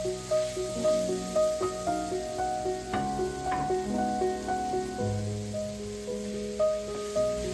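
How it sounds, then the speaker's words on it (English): Sausage and onion sizzle together in a hot pan with a steady frying hiss, while soft scraping and stirring clatter recurs near and close throughout; nobody speaks. "I'll add my onion once the sausage gets browned, and I'm just going to cook that till it is soft and translucent."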